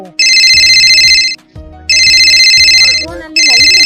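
A mobile phone ringtone plays loudly in repeated electronic bursts of about a second each, with short gaps between them, while a voice speaks briefly in the pauses.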